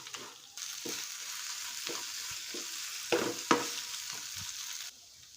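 Grated raw mango frying with turmeric in a pan, a soft continuous sizzle broken by several light stirring knocks and scrapes, close by with no talking.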